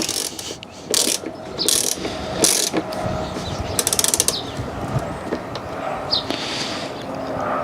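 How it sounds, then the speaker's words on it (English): A ratchet snugs down a nut on a BMW rear boot microswitch, sounding as several close bursts of rapid clicking with short pauses between strokes against a steady background hiss. "And tighten that nut down."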